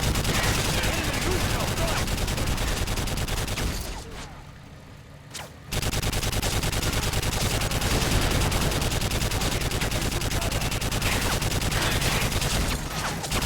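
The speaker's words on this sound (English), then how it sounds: "Yuri, man the 50 cal, lay down cover fire." A .50 cal machine gun laying down cover fire in Call of Duty MW3 roars in loud sustained bursts, with one brief pause before firing resumes and continues to the end.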